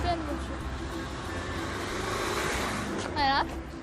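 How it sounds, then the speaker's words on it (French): Street traffic with cars passing and a low road rumble, heard under a person talking while walking outdoors. "Là, je vais rentrer, donc il y a plein de voitures."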